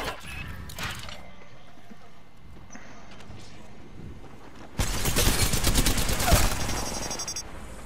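Bursts of rapid gunfire in the battle royale game Apex Legends, a quieter stretch followed by a loud, dense volley of shots near the end, with a voice talking over the action.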